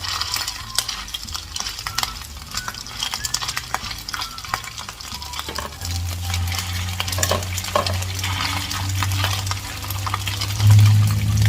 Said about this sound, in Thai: ตักหมูออกมา แล้วเราก็จะใส่ลงไปในกระทะนะคะ